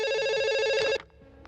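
A telephone rings in a bathroom with a loud, sustained electronic bell tone that cuts off abruptly after about a second, leaving near silence.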